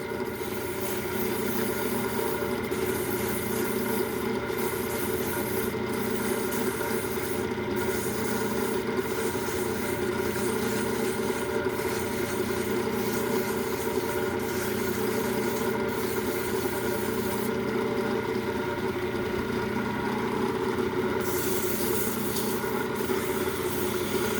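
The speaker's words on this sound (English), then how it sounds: "It's about 1100 RPM I've got the lathe set up for right now." A metal lathe runs at about 1100 RPM, giving a steady continuous mechanical hum and whir with a constant rubbing, scraping texture from tool work in a workshop, with no pauses.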